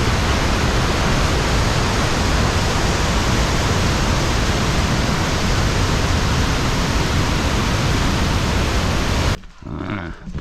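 Hardraw Force waterfall in the Pennines roars as a loud, steady, broadband rush of falling water that fills the scene close up, then cuts off abruptly near the end.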